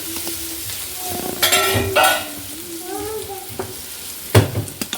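Food is stirred in a hot pan, frying and sizzling steadily while a spoon scrapes at irregular moments, with a louder scrape near the end and some faint voice-like tones in the background.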